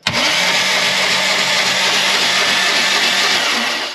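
A starter cranks the engine of a rare 6x6 all-terrain vehicle, a loud, close, unbroken mechanical whir that kicks in sharply and holds steady for several seconds before tapering at the end.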